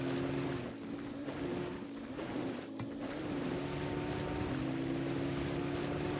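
A Chevrolet CK1500 truck floats through deep water in SnowRunner, a steady wash of water and wind with a low engine hum running throughout, loud and continuous with no talk.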